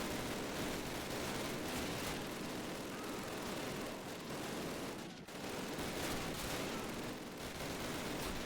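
Dense, continuous gunfire from a Thompson and other weapons in the Normandy campaign of the 2003 Call of Duty, a loud wall of rapid shots and blasts with barely a break.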